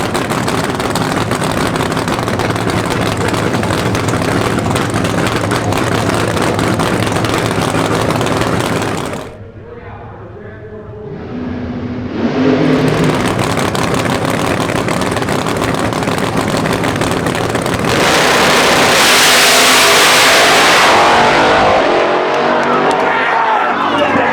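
Pro Nitrous drag race cars at a PDRA event, loud sustained engine roar dominating throughout, briefly dropping away mid-stretch before surging back even louder as the pair launches down the track.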